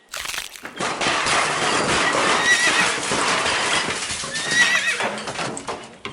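Horses neigh loudly and repeatedly, with hooves clattering and scrambling and a cracking crash, as a stagecoach's axle breaks and the coach overturns into a ditch. The noisy scene runs continuously with no talking.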